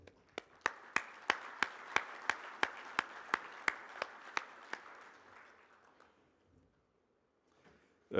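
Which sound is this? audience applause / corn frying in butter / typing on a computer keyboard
audience applause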